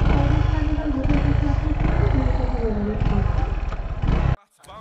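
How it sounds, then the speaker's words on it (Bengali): A Runner Bolt 165R motorcycle engine runs loud and close, chugging and revving steadily for about four seconds before cutting off abruptly, with talk mixed in. "তো এখন বাইকটা রাইড দেওয়া যাক।"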